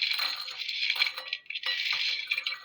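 Dried homemade tutti frutti pieces are poured into a bowl, producing a bright, dense rattling clatter of small hard bits that pauses briefly and then resumes, close and fairly quiet.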